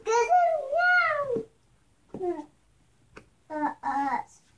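A voice imitates a cat with drawn-out meows, one long wavering call followed by a few shorter ones, close and clear.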